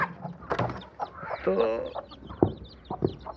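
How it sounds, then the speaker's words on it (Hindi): Village hens let out in the early morning cluck and squawk nearby in short, irregular bursts, while a voice speaks briefly between the calls. "ये हमने सुबह सुबह चूचे आपने निकाले हैं मुर्गियाँ"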